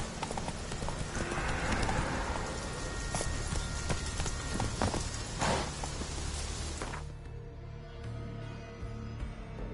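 Hooves of Roach, Geralt's horse in The Witcher 3, clip-clop in a steady walking rhythm over a busy game soundscape, with a brief whinny. The scene thins out and quietens for the final seconds.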